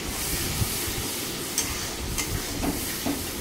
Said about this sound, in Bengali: অল্প একটু জল দিলাম, দিয়ে মশলাটা আবার একটু কষাতে হবে।